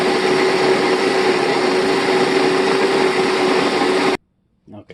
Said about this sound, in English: Good old steel burr grinder will take care of that.